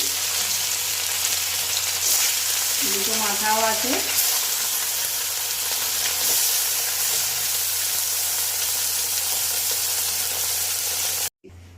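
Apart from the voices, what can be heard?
fish frying in hot oil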